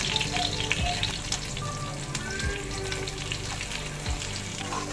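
Potatoes sizzle steadily in a hot pan, seasoned with salt and black cumin (kalo jeere), a continuous close frying hiss with occasional soft scrapes and stirs, no voices.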